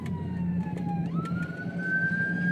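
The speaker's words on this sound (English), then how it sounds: "I apologize if you hear sirens in the background." An emergency vehicle siren wails in the distance, its tone sliding down then climbing to a sustained high pitch over a low steady hum.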